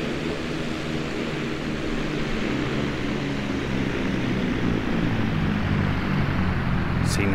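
An airplane sound effect in a Blender animation plays as a continuous, moderately loud droning engine hum with a low rumble, rising slightly in intensity toward the end, heard alone without talking.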